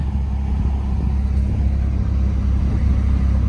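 A Ford F-150 with a 2.7-litre engine and new larger fuel injectors drives along steadily, its engine and road noise forming a loud, continuous low rumble inside the cab.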